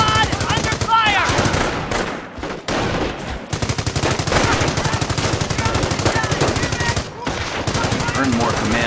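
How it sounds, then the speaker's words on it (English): Sustained machine-gun and rifle fire rakes a squad in the World War II strategy game Company of Heroes, loud rapid bursts running almost continuously with brief pauses, overlaid by battle sounds and a voice. "Squad under fire!"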